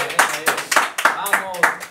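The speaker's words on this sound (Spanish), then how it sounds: "un aplauso, por favor" On a talk-show set, steady rhythmic handclaps land about three times a second, close and fairly loud, with a voice sounding over them.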